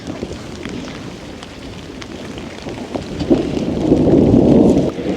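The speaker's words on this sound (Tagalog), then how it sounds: "Umuulan na." Steady rain hisses and patters close by, swelling louder toward the end, with no voices.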